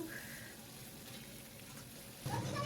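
Potatoes fry in hot mustard oil in a wok, giving a faint, steady sizzle that swells into a louder, fuller crackle near the end.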